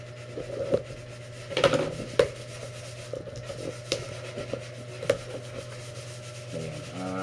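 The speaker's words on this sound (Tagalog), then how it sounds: "Buksan natin itong binili natin parcel." Cardboard parcel box for a Stanley sheet sander being opened by hand, with close, quiet rubbing, scraping and tearing of cardboard broken by a few sharp snaps and crinkles, no voices.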